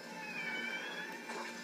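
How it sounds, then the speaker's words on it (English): A pet cat cries with a drawn-out, plaintive meow, close and fairly quiet, heard alone over a low room hum. "that's my cat crying"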